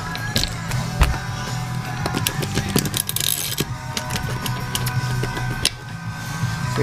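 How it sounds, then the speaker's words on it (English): A hand ratchet wrench tightens bolts on a GoPed rear wheel assembly, giving rapid, irregular clicking and metallic ticks close up over a low steady hum. "Now I'm going to grab my wrench. So our ratchet."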